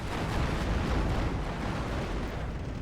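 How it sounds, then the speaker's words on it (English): Missile barrage explosions in the World War II strategy video game Steel Division 2, a dense, continuous rumble of overlapping booms. The blasts blur into a loud, heavy roar with no clear gaps between impacts. "I think we've also got a missile barrage coming up."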